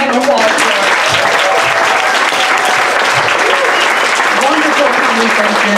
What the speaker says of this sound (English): Let's give another applause.